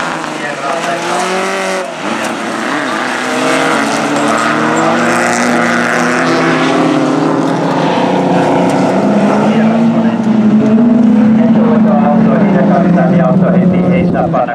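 A Ford Sierra rally car engine roars at high revs throughout a rally stage, loud and continuous with rising and falling pitch, under a commentator's voice.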